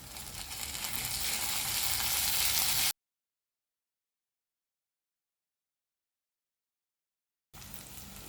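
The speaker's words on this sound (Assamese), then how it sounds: "আৰু অকণমান হালধি দিছোঁ। এতিয়া এইখিনি লৰাই ল'ম।" Spiced food with turmeric and tomatoes sizzles and is stirred in a frying pan for a chicken dinner, a swelling close hiss that cuts to complete silence for several seconds, then resumes.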